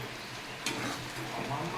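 Pieces of fried pointed gourd drop into hot oil with frying spices, green chillies and garlic, giving a steady close sizzle with a brief clatter and stirring.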